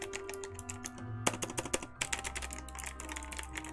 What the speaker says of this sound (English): I have this it looks like a typewriter keyboard, right? It's a Bluetooth, right?